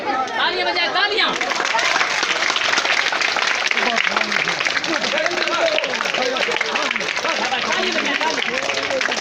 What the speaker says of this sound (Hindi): तालियां बजाए तालियां।